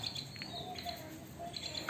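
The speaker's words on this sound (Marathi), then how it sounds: "हे आपलं चिमण्या ना." Sparrows chirp in short, faint bursts on a quiet village morning, with a few scattered high tweets and no voices.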